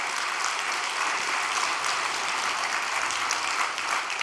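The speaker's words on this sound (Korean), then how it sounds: "박수 한번 부탁드리겠습니다." Steady, continuous applause from a church congregation in Taipei, a dense wash of many hands clapping at moderate volume without a break.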